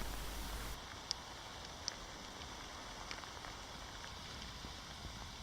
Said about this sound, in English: the rain just kept coming down and gradually got heavier as the day went on.